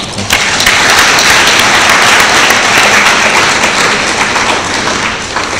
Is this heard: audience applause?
yes